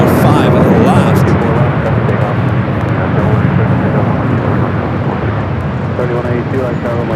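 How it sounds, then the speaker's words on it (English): United Boeing 787-10 Dreamliner from Newark landing at LAX, a loud, broad, steady engine roar that fades slightly over several seconds, with someone talking over it throughout. "we do have a United Dreamliner coming up from Newark, flight 2692, a 787-10 Dreamliner. Touching it down"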